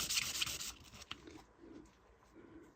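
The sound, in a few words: sanding a dulcimer bridge with 600 grit sandpaper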